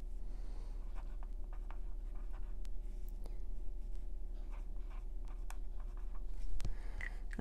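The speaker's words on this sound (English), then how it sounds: "And let me write my numbers on here." A pen scratches out numbers on paper in soft, intermittent strokes against a steady low hum, close by and quiet, with no talking.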